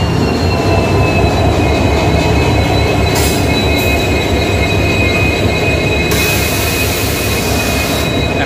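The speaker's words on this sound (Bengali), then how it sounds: "এই যাই সমস্ত ট্রেন, এখন এই ট্রেনে যাবো।" A Vande Bharat Express train runs on rails, a loud continuous rumble of wheels and carriages with high metallic squeals of wheels on track throughout.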